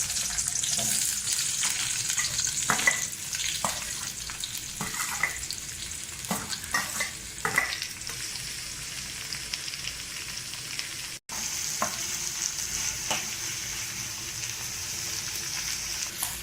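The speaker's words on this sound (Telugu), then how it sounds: "కడాయిలో కొంచెం నూనె తీసుకొని ఇప్పుడు మనం ఉల్లిగడ్డను ఫ్రై చేసుకోవాలి" Chopped onions fry in oil in a kadai for egg biryani, a steady close sizzle with scattered stirring scrapes and clicks running throughout, no voices.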